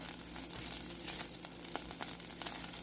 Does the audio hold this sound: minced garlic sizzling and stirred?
yes